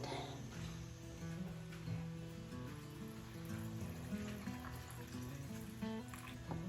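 Water pours and trickles into canning jars during pressure canning of refried beans, a steady soft liquid fill sound over a background of musical tones, without speech.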